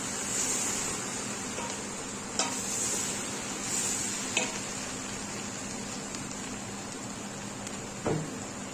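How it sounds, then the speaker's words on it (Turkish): Eggplant and garlic sautéing in oil in a pan give a steady, close sizzle, with a few soft knocks of stirring scattered through and no voices. "Yedi sekiz diş sarımsak ilave ediyorum ve patlıcanları ilave ediyorum. Güzelce kavuruyorum."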